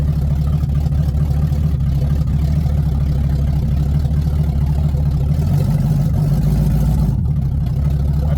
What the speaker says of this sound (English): Sounds like it's misfiring for sure.